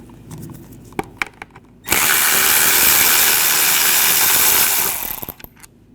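A power ratchet with a 10mm socket spins out intake runner screws on a 2002-2006 Honda CR-V 2.4L four-cylinder, a loud steady whirring run of about three seconds after a few light clicks and taps, then more clicks.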